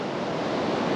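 Big ocean swells at high water break on a beach on the South Wales coast at Monknash, a steady broad roar of surf mixed with wind rush, loud and continuous.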